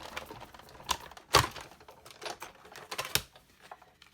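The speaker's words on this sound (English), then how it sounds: "we are going to run this through with the blue because this is a new embossing folder" Cardstock in a new embossing folder cranked through a die-cutting machine: close, uneven clicking and crunching with a few sharper snaps, steady mechanical grinding throughout.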